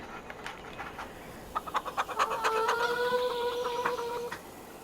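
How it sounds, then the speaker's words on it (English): Farm animals in Farm Sim 25 give a short burst of clucking chicken calls, faint and thin at first, then a brighter cluster of overlapping chirpy clucks near the end over a quiet background. "There's that little chickens everywhere, somewhere around here."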